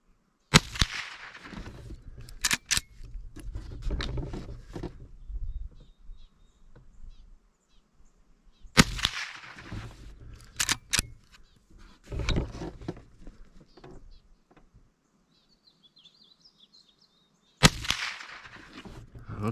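A Henry lever-action rifle fires rounds outdoors, each sharp crack followed by metallic lever cycling and handling clatter, spaced several seconds apart; some bird calls are heard faintly in the background.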